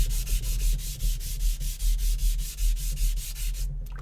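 A rust eraser scrubs a knife sharpening stone clean in quick, rhythmic back-and-forth strokes, a close, gritty rasp repeating steadily with no voices.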